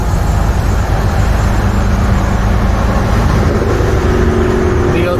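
Truck cab on a highway, a loud, steady low engine drone and road roar that carries on without a break, with faint speech buried beneath.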